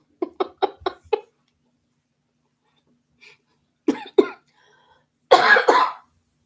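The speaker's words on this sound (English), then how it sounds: "I'm still trying to cough up that third lung" A person coughs in a quick run of five sharp barks, then after a pause gives two more hacking coughs and a longer rasping throat-clearing cough, all close and loud in a quiet room.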